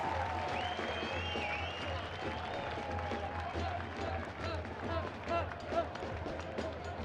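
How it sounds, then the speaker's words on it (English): Crowd at a professional soccer friendly in a stadium applauding a player's effort, a moderate, sustained spatter of clapping heard from a distance beneath a commentator's voice and general stadium ambience. "Some of the crowd appreciate Fondi's efforts, though"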